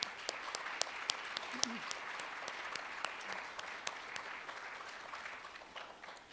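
A large audience gives a round of applause for public service award winners at a university ceremony, a steady, fairly distant wash of clapping with a few sharper claps standing out, lasting several seconds.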